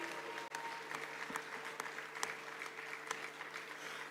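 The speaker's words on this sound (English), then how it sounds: "Can we keep the applause going, ladies and gentlemen?" Audience in Jubilee Hall at the Ghana Journalists Association awards ceremony keeps up steady, fairly faint applause, a continuous patter of clapping from a crowd heard at some distance.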